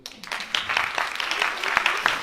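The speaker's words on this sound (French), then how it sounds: "je vous demande d'applaudir" Audience applause in a hall after a call to applaud a team of three, a dense patter of clapping rising after a quiet start and holding steady for a couple of seconds, with a little crowd murmur mixed in.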